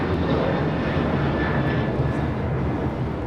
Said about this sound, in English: This is United Airlines Flight 2373 taking off to Kailua, Kona on a 737-900ER.